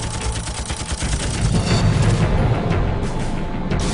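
A Gatling gun aboard an F-4 Phantom jet, its barrels spun by an air-driven turbine, fires in sustained rapid bursts, a loud dense roar of shots that continues steadily and grows heavier partway through.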